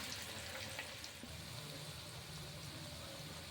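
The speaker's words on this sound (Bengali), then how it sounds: "রিফাইন্ড অয়েল গরম করে নিয়েছেন, দিয়ে এইভাবে ভাজতে দিয়ে দিলেন" Pitha fry in hot refined oil, making a faint, steady hiss and bubbling heard from a short distance with no pauses.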